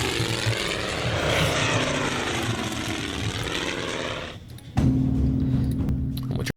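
Aircraft engines drone in the Pacific naval war game Order of Battle Pacific, as reconnaissance float planes and fighters fly out. A steady propeller hum runs throughout, shifting into a louder, lower engine tone near the end.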